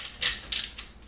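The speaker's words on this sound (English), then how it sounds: "Snug those bolts down good." Ratchet wrench snugging 9/16 bolts on a Hayward Super Pump motor during a motor replacement, giving a few short bursts of metallic clicking with brief pauses between them.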